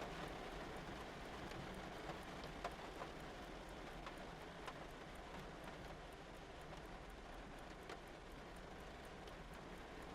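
Rain rushing and crackling down the storefront windows of an antique shop, a steady dense hiss with scattered sharp drop ticks, fairly faint and continuous throughout.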